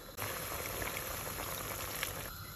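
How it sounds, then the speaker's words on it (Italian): A pot of sauce with baby octopus, tomato passata and water simmers, a dense continuous bubbling and popping close by that starts abruptly and stays even throughout. "Mescoliamo e lasciamo cuocere tre quarti d'ora."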